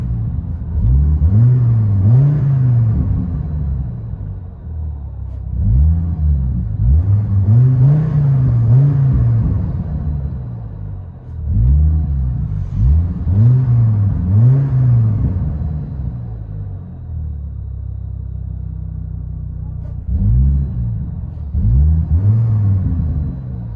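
Heard from inside the cabin, a Dodge Viper truck's engine revs repeatedly in long swells, a loud deep muffled rumble rising and settling about six times with idle gaps between.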